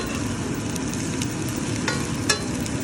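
Plenty of onions fry in a pan, sending out a steady close sizzle with occasional louder pops and stirring scrapes, with no voices.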